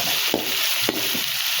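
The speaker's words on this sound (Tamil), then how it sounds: "வெங்காயம் நல்லா வதங்கட்டும்." Onions sautéing in a pan for a cauliflower gravy give a steady close sizzle and fry, with a few brief stirring scrapes and no voices.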